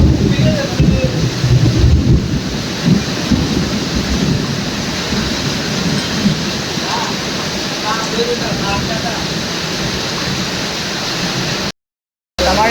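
Heavy monsoon rain pours in Mullasery, Thrissur, as a loud, dense, roaring wash of noise with low rumbles underneath. Voices are heard under it, and the sound cuts out briefly near the end.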